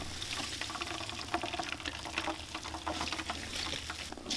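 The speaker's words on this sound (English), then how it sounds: "I'm gonna continue pressing all this soy milk out" Homemade soy milk is pressed out of blended soybean pulp by hand, making a continuous wet trickling and squelching pour of liquid that stays fairly faint and even throughout.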